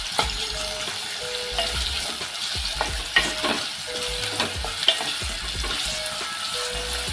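Finely chopped onions and a green chilli frying in a pan for a Maharashtrian radish and dried-shrimp dish, a loud continuous sizzle with repeated spatula scrapes and clicks at an even, busy pace.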